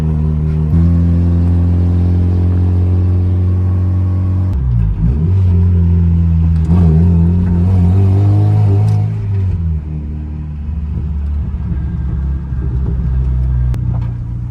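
A Fiat Punto drives along with a steady low engine drone heard from inside the cabin, rising through a couple of revving surges in the middle before settling back to a cruising rumble, with no talking.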